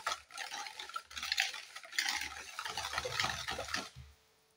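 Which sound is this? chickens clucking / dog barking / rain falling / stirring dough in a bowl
stirring dough in a bowl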